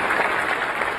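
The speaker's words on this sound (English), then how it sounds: "Yeah, you can clap for that." Audience applause at a live event introducing astronauts for a Moon mission, a steady, dense burst of clapping from a large crowd, continuous and fairly loud throughout.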